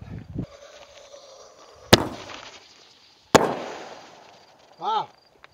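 Black Box Artillery consumer fireworks at Goldfield, Nevada: a soft launch thump, then two sharp loud bursts about a second and a half apart, each trailing crackle, and a whistling rising tone near the end, with brief outdoor murmur between.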